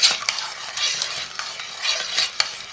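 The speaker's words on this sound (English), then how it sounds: "just to maintain a good boil and to keep stirring it" Boiling fudge mixture stirred in a pot, a close, steady scraping and bubbling swirl with occasional utensil knocks against the pan, no talking.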